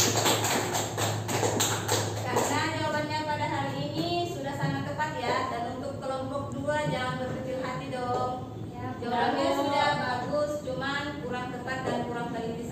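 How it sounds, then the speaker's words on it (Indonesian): A classroom of children claps for the first group: a dense burst of clapping for about two seconds, then children's voices and talking fill the room. "Aplaus dulu kepada kelompok 1"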